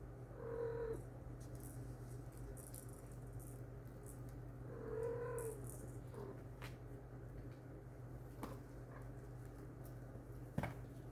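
A young kitten purrs faintly while being played with, a soft steady rumble running under the room's quiet hum, broken by a couple of brief meows and a small bump near the end.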